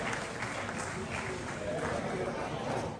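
An audience at a formal military dinner applauds as guests take their seats, with dense sustained clapping mixed with crowd murmur and movement, steady and moderately loud throughout.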